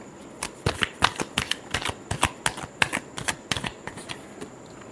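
Tarot cards being shuffled by hand, a close run of quick crisp riffling bursts with short pauses between them. No talking.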